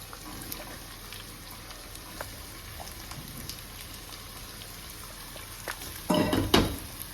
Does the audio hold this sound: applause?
no